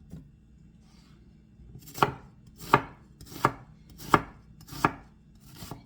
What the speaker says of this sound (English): Oh, I bet you want to see how I'm chopping it up.